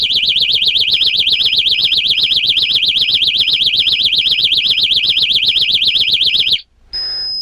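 A PowerFleet vehicle impact alarm sounds during a tabletop demo, a loud piercing warbling tone pulsing rapidly and steadily for several seconds before cutting off, followed by a brief quieter steady beep.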